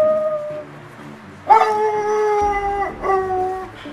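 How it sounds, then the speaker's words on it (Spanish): Black and Tan Coonhound howling in long, mournful, wavering notes, loud and close, with a second rising howl near the end. "El perro negro y fuego para la caza de mapache."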